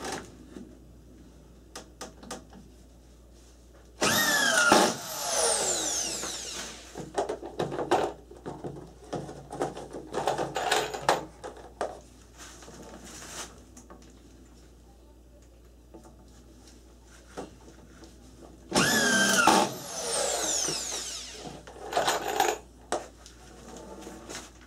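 Screws driven into a sistered floor joist during a bathroom remodel: two long bursts of a power drill whirring, each followed by clicks and clatter of handling, close and loud with quieter gaps between.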